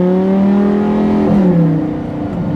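A 2014 Lamborghini Gallardo LP550-2 accelerating in its normal, non-sport mode, the engine note rising steadily from inside the car, then dipping slightly as the pitch settles before climbing again.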